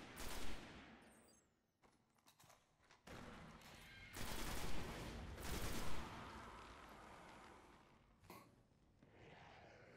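Assault rifle fire from the shooter game Destiny, set on the Moon: bursts of loud gunfire come in uneven clusters with short gaps, dense and close, mixed with other combat effects.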